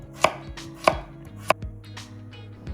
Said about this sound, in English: slice up a zucchini and carrot into small slices